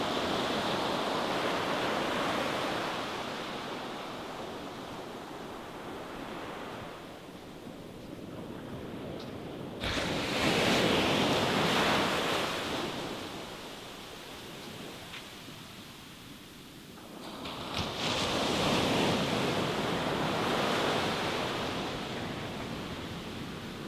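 Surf rolls steadily onto a long, sandy beach at Gippsland Lakes, with no people speaking. The wash is a broad, continuous roar that swells at two points as bigger waves break, and wind rushes across the microphone.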